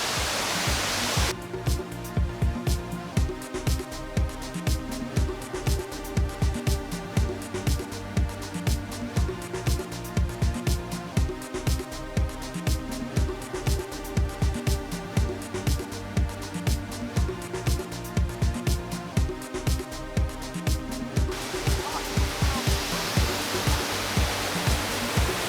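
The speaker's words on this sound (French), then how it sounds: "Et voilà la toute petite cascade qu'on peut voir au début du film." A very small waterfall at a Jurassic Park filming location pours with a steady, dense rushing hiss, close and continuous, while a rhythmic pulsing beat runs over it for most of the stretch.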